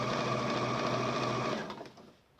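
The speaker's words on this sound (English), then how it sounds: "So I've gone backwards a few stitches and I'm following, the middle gap of the needle is following the chalk line" A sewing machine runs steadily and close as it stitches a dart in a dress along a chalk line, a continuous whirring drone that stops near the end.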